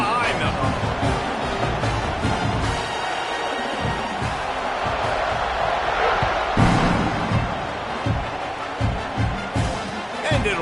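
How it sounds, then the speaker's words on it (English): Football stadium crowd at a college game between Oklahoma and Notre Dame, roaring steadily at kickoff, a dense continuous wall of noise with swelling cheers and a few sharp bursts near the end. "this crowd now ready to get behind them."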